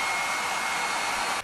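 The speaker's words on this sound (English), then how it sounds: "I'll use a hairdryer for the final drying process." A hair dryer blows steadily at full power onto a MacBook Pro 13-inch logic board being dried after a Gatorade spill, a loud, even, close-up whooshing roar with a faint whine that cuts off at the end.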